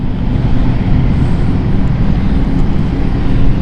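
Jet engines of a Swiss airliner spool up at London City Airport, a loud, steady broadband roar holding constant throughout with no voices.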